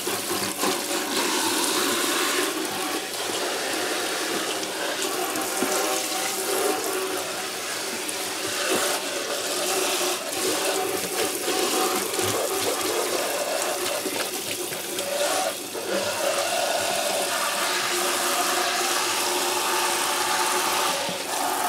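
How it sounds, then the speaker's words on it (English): Steady rushing water pours into a kitchen sink, rinsing broccoli microgreen seeds and roots down the garbage disposal, a continuous close splashing wash lasting the whole stretch with no speech. "the rest will just rinse down into the garbage disposal"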